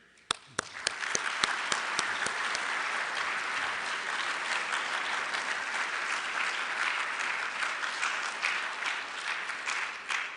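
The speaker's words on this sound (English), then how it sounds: "Let's offer them a round of applause, well deserved, for their efforts this year." Banquet audience at the 2022 ASABE IQS Student Design Competition applauding volunteers, a few sharp claps at first swelling quickly into sustained, dense applause that holds steady before gradually thinning toward the end.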